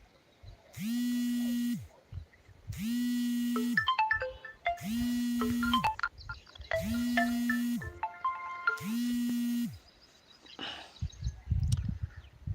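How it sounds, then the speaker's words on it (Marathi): A mobile phone rings with an incoming call, five evenly spaced electronic tone bursts each followed by a short melodic chime phrase, loud and close, then the ringing stops and handling noise follows. "हे फोन कोणाचा आला म्हणा मधीच"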